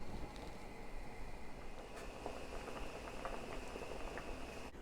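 Steady bubbling and gurgling of salted water with potatoes coming to a boil in a saucepan, a continuous soft rumble with small pops, fairly close and with no voices.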